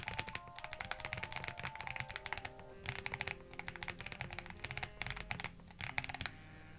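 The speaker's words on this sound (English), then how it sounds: "let you have a listen of me typing" Typing on a Fifine keyboard, close-miked: a steady run of crisp key clacks in uneven bursts with brief pauses, soft-to-moderate and alone with no voices.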